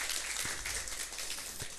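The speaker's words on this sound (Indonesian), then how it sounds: "ini tepuk tangan untuk tukang sound system ya" An audience at an NU culture seminar claps for the sound system crew, a short, hissy wash of many hands at moderate distance.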